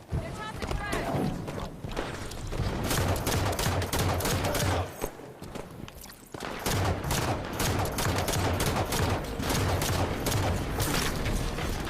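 Automatic gunfire in the Halo video game, sustained loud bursts of shots up close, briefly easing in the middle, with players talking over the fighting.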